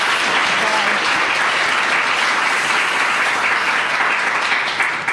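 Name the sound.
audience applause for panel guests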